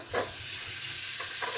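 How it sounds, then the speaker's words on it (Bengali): Potatoes frying with prawns and turmeric in a pan, with no water added: a continuous close hiss of frying broken by a few soft stirring scrapes. "আলুটাকে সুন্দর করে ভাজা ভাজা করব।"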